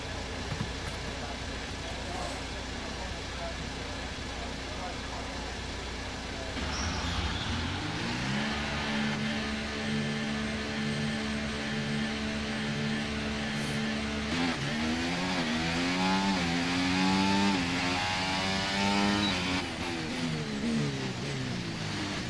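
A Formula 1 car in the F1 2024 racing game drives around the track, its high engine note rising and falling through gear changes and revs while a voice talks over it.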